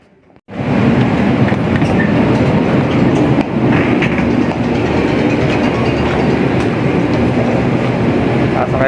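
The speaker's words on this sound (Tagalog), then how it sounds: "Sasakay pa tayo ng train." A passenger train ride in Miami, with a loud, steady rumble and rattle of the rail cars that starts abruptly and continues throughout, heard from on board.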